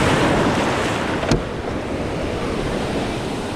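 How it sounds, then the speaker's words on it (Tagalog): Ocean waves at sea during net fishing from a boat, a loud steady roar of surf and wind buffeting the microphone throughout, with one brief knock partway through. "Alon yan, alon."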